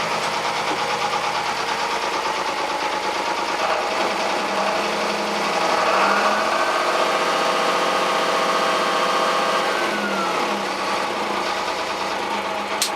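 A Fisher 30 sailboat's inboard engine runs steadily nearby, a continuous mechanical hum and clatter that stays loud and even throughout.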